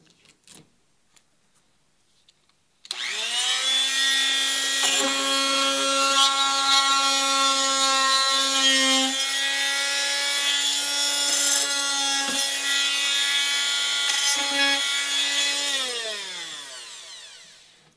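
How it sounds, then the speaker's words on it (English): Reciprocating power tool cutting flexible adhesive on a wooden boat hull, starting abruptly after near silence and holding a loud, steady buzzing whine with small wavers before winding down. "Something about that reciprocating action makes cutting this type of material, it's night and day"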